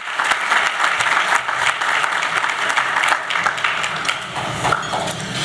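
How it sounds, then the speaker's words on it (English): Audience applause fills a health policy luncheon at a leadership summit, a steady wash of many hands clapping loud and close for several seconds with no speech over it. "I think we should all give him another round of applause for his hard work."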